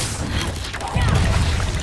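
A Confringo fire spell blast from Hogwarts Legacy lands as a deep, booming burst about midway through, following a rumbling, crackling lead-in and carrying a sustained low roar to the end.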